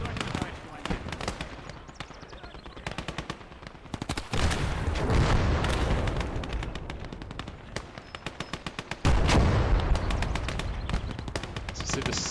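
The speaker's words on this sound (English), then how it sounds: "There's a lot of heavy artillery coming down." Heavy artillery and mortar fire booms and rattles in a World War II tactical game, with rapid bursts of machine-gun fire, deep explosions and someone talking over the battle.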